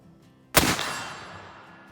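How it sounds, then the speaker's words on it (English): An Armsport Kentuckian black powder rifle fires a single loud shot outdoors at a steel target. It is a sharp close blast followed by a long fading rumble. "Here we go with the first shot of the day."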